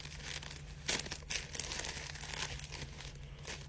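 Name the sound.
cutting open a bag of charcoal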